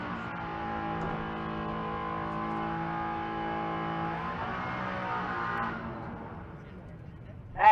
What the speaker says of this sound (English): That Maverick out there, warming up the hides.